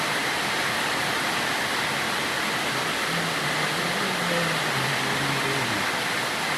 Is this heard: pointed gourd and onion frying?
no